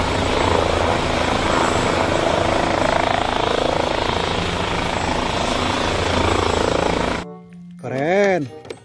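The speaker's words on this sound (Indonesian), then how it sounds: "Helikopter teman-teman." A toy helicopter whirs with a loud, steady buzzing drone for about seven seconds, close by, then cuts off as a voice speaks briefly.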